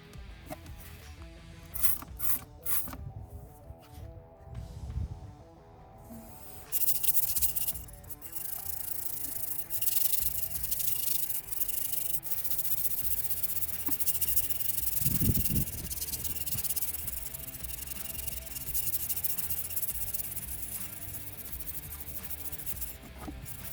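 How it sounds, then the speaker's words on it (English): Engine bay intake runners on a car are scrubbed with cleaner, giving close, repeated rubbing and brushing strokes in irregular bursts, with a brief spray hiss near the start. "I'm going to give these two runners a squirt and a scrub"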